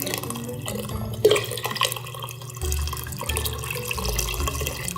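Vegetable broth pours and splashes steadily into a pot of lentil soup, a continuous watery gush with a brief clatter near the start.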